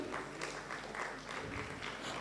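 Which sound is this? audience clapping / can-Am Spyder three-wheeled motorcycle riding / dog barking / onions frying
audience clapping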